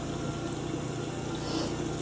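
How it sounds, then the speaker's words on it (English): Copper Bars radiator leak-stop liquid being poured into a vehicle's radiator makes a steady, soft gurgling wash of flowing liquid that continues evenly throughout, with no talking. "I'll pour like a half a container in this"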